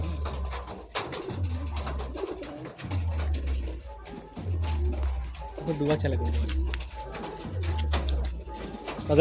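Madrasi pigeons coo in a low, steady rhythm, repeating throughout while someone talks over them amid background clatter.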